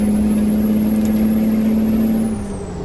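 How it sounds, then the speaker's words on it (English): A heavy truck engine in American Truck Simulator, hauling a double log trailer on a Washington highway: a loud, steady low drone that holds evenly, then drops in pitch and fades slightly near the end, with no talking. "There's that engine working nicely."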